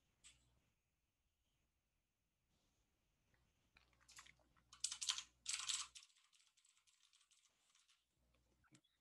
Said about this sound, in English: Sorry, use the quiet keyboard.